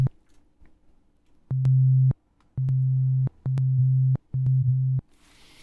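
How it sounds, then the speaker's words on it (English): A synthesizer tone played in NI Massive through a classic echo delay effect: a series of short, steady pitched notes with sharp clicks at their edges, clean and isolated, with no talking. "So if we play this real fast, this will give you your classic echo effect."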